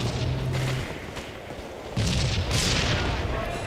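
Halo 3 sniper rifle shots crack out as deep booming blasts in a multiplayer match, two or three heavy reports amid game noise, with a commentator's voice partly under them.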